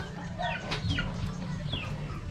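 A Rhode Island chicken clucks in short, close bursts over a steady low background hum, with no talking.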